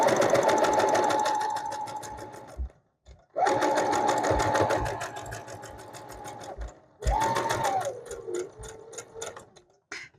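A sewing machine stitches a fabric square for a Christmas table runner in three steady bursts of rapid, even needle strokes, close and loud, with short pauses between runs and no talking.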